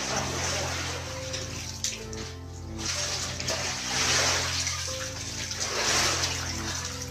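Gas masks are washed in running water, with a steady rushing flow like a filling tub, splashes and trickles, over a low background hum.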